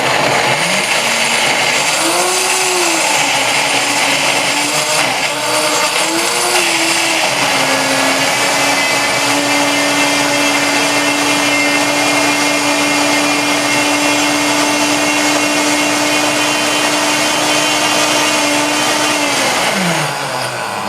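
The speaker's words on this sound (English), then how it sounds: "This is the KitchenAid, the workhorse. I'm going to blend that sauce nice and creamy." A KitchenAid blender whirs loudly close by as it blends a sauce until creamy, a continuous motor roar lasting about twenty seconds that wavers early on, then settles to a steady pitch before spinning down.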